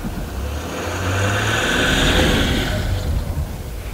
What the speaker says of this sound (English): from it being floored straight away, there was no wheel spin whatsoever as he pulled off